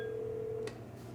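A Yealink desk phone sounds a steady dialing tone while placing a call back, holding for about half a second before cutting off to a quiet line hiss.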